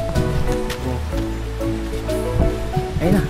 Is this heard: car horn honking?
no